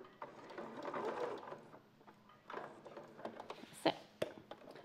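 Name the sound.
sewing machine stitching fabric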